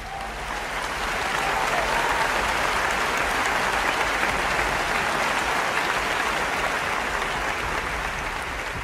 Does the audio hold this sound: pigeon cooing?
no